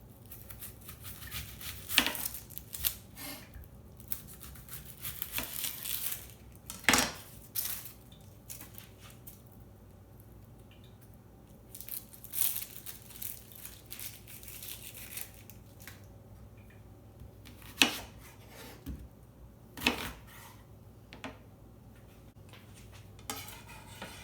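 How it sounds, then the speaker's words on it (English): A knife chops an onion on a cutting board in a home kitchen while tortillas are being made, giving irregular sharp taps and clatters with quiet gaps between strokes and a few louder knocks. "you can go ahead and cut your onion"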